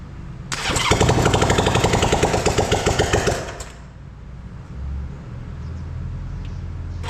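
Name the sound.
1968 Honda CB350 motorcycle engine running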